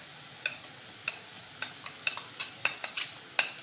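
A spoon taps and scrapes against a pan while spice paste is stirred into frying okra, giving about a dozen sharp, light clicks at an uneven pace over a quiet background.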